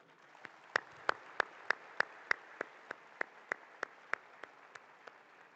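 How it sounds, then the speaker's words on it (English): At a school's 50th anniversary education event, crisp individual claps sound at a steady, even pace, about fifteen in a row. They ring out sharply over a quiet room rather than as a dense crowd roar. "deserves a generous, loud, thunderous applause from all of you"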